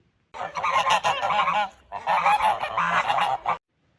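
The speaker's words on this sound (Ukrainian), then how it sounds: "А тепер гуску." Domestic geese honk loudly in two bursts of overlapping, raucous calls, close by, separated by a brief lull.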